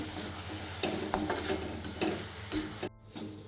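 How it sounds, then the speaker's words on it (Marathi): Coconut burfi mixture with cream being stirred in a pan over low heat, giving a steady soft sizzle with a few scraping strokes of the spoon and no talk. "आणि असंच फिरवून घेऊ 5 मिनिट कमी गॅसवर"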